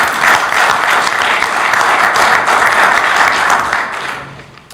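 Attendees at a town council meeting clap loudly and steadily for a few seconds, the applause tapering off at the end with no talk over it.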